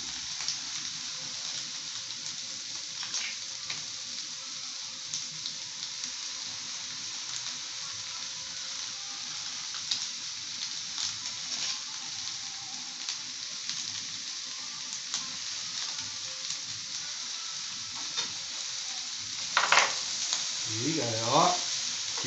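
Yakisoba noodles frying with olive oil on a flat griddle give a steady close hiss and crackle, broken by occasional scrapes of the spatula, and a voice comes in briefly near the end.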